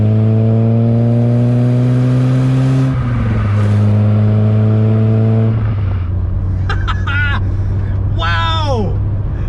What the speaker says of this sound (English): Coming around, listen to that exhaust.